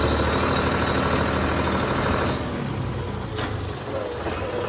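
A John Deere tractor engine runs loud and close with a steady, rough diesel drone that drops slightly in level partway through and keeps rumbling with no break.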